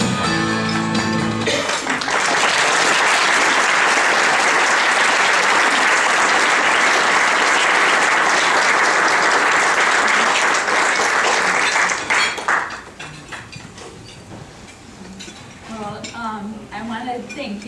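Audience applause for an anti-bullying speaker at a Toastmasters event, loud sustained clapping from a large crowd for about ten seconds before dropping to a softer, scattered patter.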